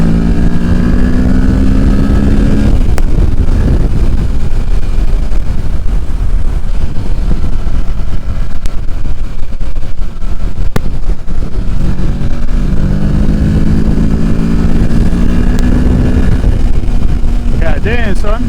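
A 2023 Kawasaki Ninja 650 motorcycle, freshly broken in, revs hard and loud close by as it is ridden aggressively, its engine pitch climbing and dropping through repeated shifts, with wind rush and a rider's voice at times.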